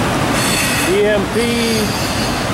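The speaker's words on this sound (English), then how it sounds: "trailers on this train which would make it into an intermodal of different styles of transportation" An intermodal freight train loaded with shipping containers and highway trailers rolls past at Mountain Green, Utah, a steady loud rumble of wheels and cars with a wavering squeal rising above it midway through.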